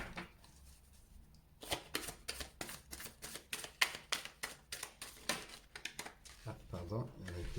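Golden Universal Tarot cards are handled and shuffled, giving a quick series of soft, close riffling flicks and taps with brief pauses, while someone speaks French quietly.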